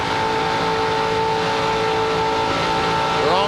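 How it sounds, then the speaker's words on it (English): A stock car's engine roars at full throttle during a 2002 NASCAR Busch Series race at Daytona International Speedway, a loud, steady onboard drone with a faint pitch sweep near the end. "you can hear the engine in Sauter's car, even from the bump. He never backed off the throttle."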